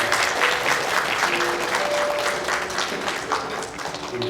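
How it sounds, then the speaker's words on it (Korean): Church congregation applauding a deacon's appointment during a Korean service, a sustained wash of many hands clapping that stays steady, then eases slightly toward the end. "우리 박수로 함께 해주시면 되겠습니다."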